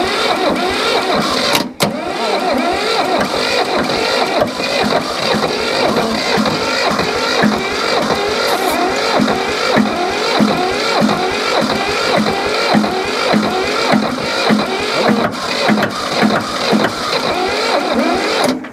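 An old diesel tractor, parked for years, cranks over and over without catching, a loud, steady rhythmic churning of the starter and engine that carries on for many seconds.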